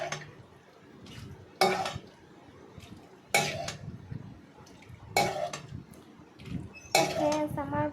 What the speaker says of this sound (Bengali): তরকারিটা আমি এবার নামিয়ে নিচ্ছি কড়াই থেকে থালায়